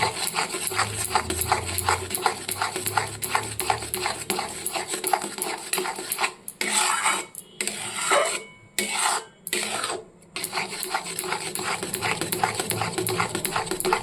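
Palm fruit kheer stirred in a pot over low heat, a rapid, rhythmic scraping of a spoon against the pot bottom, close and steady, broken by a few short pauses midway.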